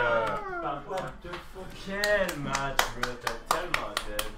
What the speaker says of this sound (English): That's the sound of them clapping!